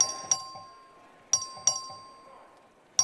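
A voting bell in the Texas House chamber strikes sharply five times in two uneven pairs and a final single ring. Each clear metallic ding decays over a quiet room hum, with a faint steady tone running beneath.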